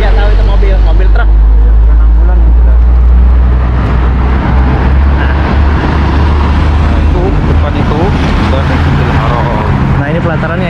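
A truck drives along a road on the route to Masjidil Haram in Mecca, a loud, heavy engine rumble that runs throughout while people talk over it.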